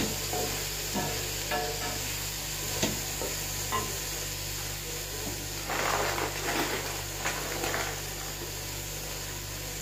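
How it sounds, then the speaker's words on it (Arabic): Vegetables sautéing in a pan, a continuous close sizzle with scattered utensil scrapes and clacks as they are stirred, no voices. "بعد اقلب كده لحد ما هي تتشوح خالص."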